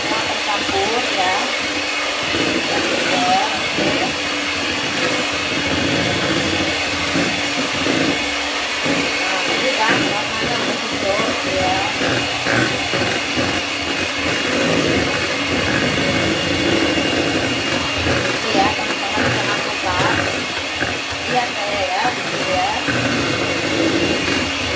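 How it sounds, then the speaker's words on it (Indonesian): An electric mixer beats pandan cake batter at low speed, giving a loud, steady whirring motor drone that runs without pause throughout, with some talk mixed in. "Kita mixer pelan-pelan sampai semua tercampur ya."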